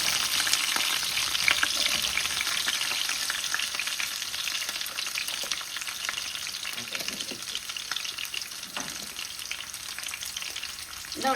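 Garlic sizzling in hot oil with fenugreek seeds for a Tamil fish curry, a continuous crackling fry close to the pan, with occasional stirring scrapes and no talk.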